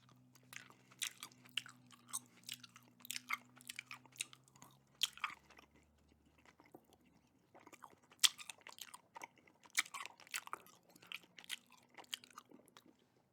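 Close, quiet chewing of cotton candy flavored Mike and Ike candies, soft bursts of wet crunching and biting in uneven clusters with a short pause midway, over a faint low hum.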